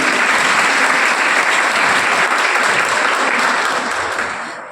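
A crowd at a school parents' meeting gives loud, sustained applause in honour of the fathers attending; the dense clapping holds steady, then begins to thin and fade near the end.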